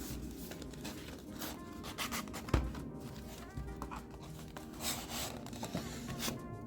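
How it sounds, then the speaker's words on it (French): Someone unboxes an X-Sense XS01-M wireless interconnected smoke detector pack with SBS50 base station, making quiet, scattered rustling and scraping of cardboard and packaging close by, with one sharp tap midway and no talking. "Je vais faire le déballage."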